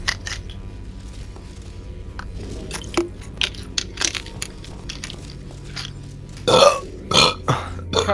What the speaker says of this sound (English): can you not burp on my stream?